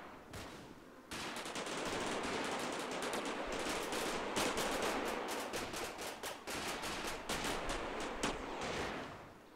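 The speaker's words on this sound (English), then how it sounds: "they start returning fire almost immediately on your men" Bursts of machine gun fire from the wartime Normandy strategy game Combat Mission: Battle for Normandy, rapid crackling volleys packed densely together for several seconds at moderate loudness, with no voices.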